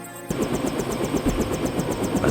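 A helicopter in the game Deus Ex, its rotor beating in a fast, steady rhythm over a constant engine drone. The sound kicks in abruptly after a brief quiet moment and holds close and even.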